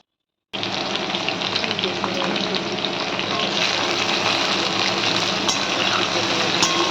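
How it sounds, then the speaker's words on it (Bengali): Moringa drumsticks fry in a hot pan for a fish curry, a loud, dense, steady sizzle that starts abruptly and continues unbroken, close and without talk. "সজনে ডাঁটাটাও ভেজে নেব।"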